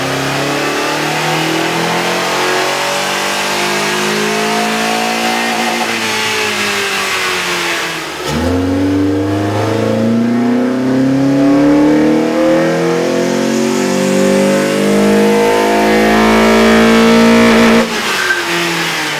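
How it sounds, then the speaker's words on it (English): A 2.4-litre Honda Accord engine fitted with an aftermarket air intake, revved loudly on a dyno in long sweeping pulls that climb and fall, with a brief drop back to idle partway through, engine alone with no voices. "With the air intake installed, we ran the vehicle on the dyno to test the sound comparison versus the stock intake."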